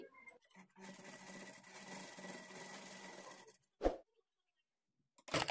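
An electric sewing machine stitches a blouse sleeve at the shoulder, humming in one steady run of about three seconds, then stopping before two brief bursts.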